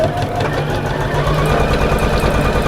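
A sewing machine runs a stitch on a big fabric bag, its motor giving a steady, close mechanical whirr with a rapid rhythmic chatter throughout.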